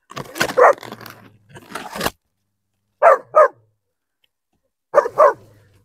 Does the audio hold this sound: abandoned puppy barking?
yes